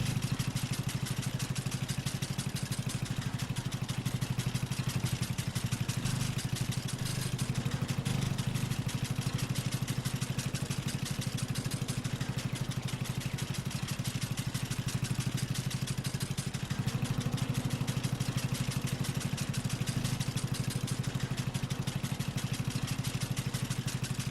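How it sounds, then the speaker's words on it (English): A tractor engine in the farming game Farming Simulator 22 hums steadily and continuously, a dense mid-pitched drone with no talk over it. "Gives a fair old hum up the old tractor."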